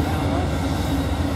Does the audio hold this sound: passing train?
yes